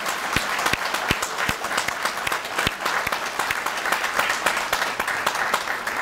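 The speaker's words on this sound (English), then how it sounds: "let's give them a round of applause" Steady audience applause at a university economics graduate commencement, a thick wash of many hands clapping with a few sharp claps standing out, moderately loud and unbroken.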